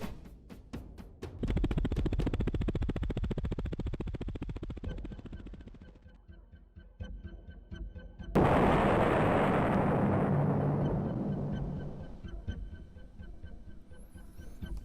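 A bomb detonates in the video game Pathways Into Darkness: a loud, sudden roaring blast that swells and rumbles, then slowly fades, following a stretch of dense rumbling noise.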